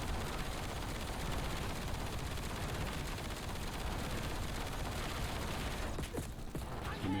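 Sustained automatic gunfire rattles through a Black Ops 7 video game fight against sentry gun turrets, a dense continuous barrage at moderate level with a few sharper bursts near the end.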